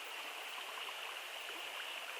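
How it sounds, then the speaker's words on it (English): A small stream in the upper reaches of the River Derg flows with a steady, broad rushing and trickling sound, continuous and close, with no voices. "These are the wee streams in the beds, the very upper reaches"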